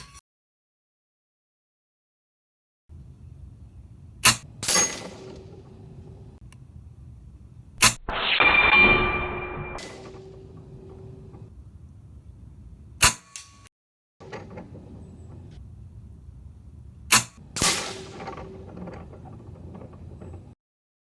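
An Evanix Monster PCP air rifle with an 800cc tank firing at targets, several sharp, loud shots spaced seconds apart, with a mechanical rattle after one shot and low background rumble in between.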